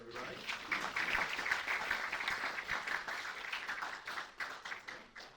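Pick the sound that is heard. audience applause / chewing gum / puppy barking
audience applause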